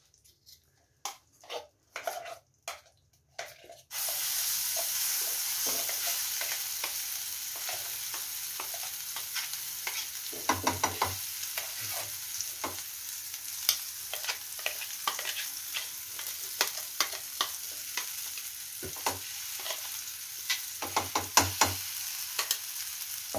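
A garlic and red chilli mixture fries in a pan over a low flame. After a few sharp scrapes it settles into a constant close sizzle, broken by repeated louder bursts of stirring and spatula scraping.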